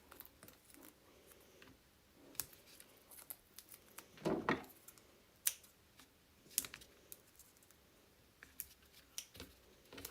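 Foam adhesive pads trimmed for a handmade card, a scatter of small close scissor snips and light paper handling, quiet, with one louder crinkly burst midway and no talking.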